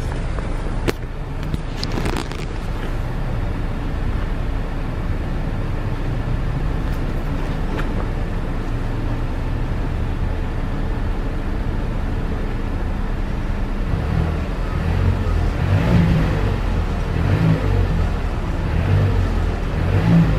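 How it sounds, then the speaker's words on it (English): A 2018 Mazda CX-9 Signature's engine and exhaust run in a steady, full-bodied drone that swells slightly toward the end as the engine is revved, with no voices over it. "Well, let me give y'all that exhaust note real quick."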